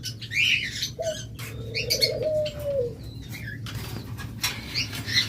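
Caged lovebirds, budgerigars and Java sparrows chirp and twitter in a busy mix of short high calls and a few longer whistles, close by over a low steady background hum.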